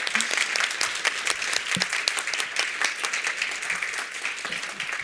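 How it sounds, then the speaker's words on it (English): A conference audience applauds at a cancer care event, dense and sustained clapping from a full room heard from some distance, with no voices over it. "A big applause to you."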